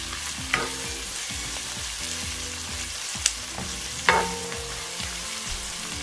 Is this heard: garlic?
yes